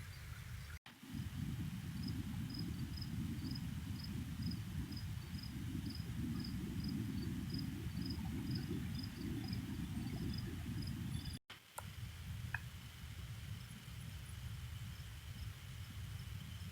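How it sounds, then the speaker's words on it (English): Steady chorus of crickets and other insects chirping outdoors at dusk at a campsite near Fairfax hydro falls, a dense continuous drone with a faint high pulsing trill, two brief dropouts, and no talking. "the bugs have definitely come out"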